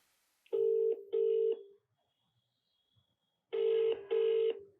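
A telephone line connecting a conference call gives two pairs of short, clear, tonal beeps separated by a pause, with no talk over them.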